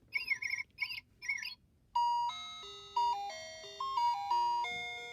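A high-tech AAC communication device plays a short electronic chime and then a simple beeping melody, clear, close and alone, each note held in a stepwise tune.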